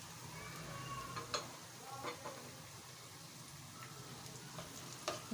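Tomatoes go into hot oil with softened onion, garlic and green chili for a mutton stew, giving a steady sizzle with a few sharper crackles and spits as the pan settles.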